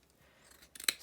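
Scissors snip through doubled vintage lace at the folded centerpiece of a no-sew shabby chic flower, giving a couple of quick close cuts near the end after a quiet start.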